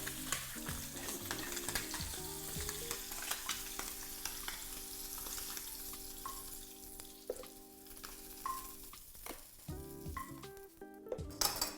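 Scallops sear in a hot pan, sizzling and crackling steadily with a constant frying hiss at close range and occasional small clinks.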